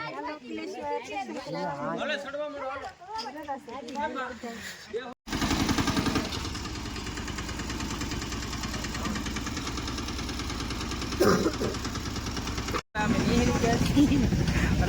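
A tractor engine runs steadily with a loud, dense, rough drone through most of the stretch, preceded by people talking nearby and broken by two brief dropouts.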